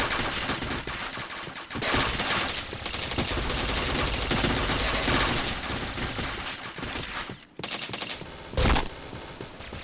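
Video game gunfire in dense, sustained bursts, loud and close, with short breaks and a heavy single blast near the end.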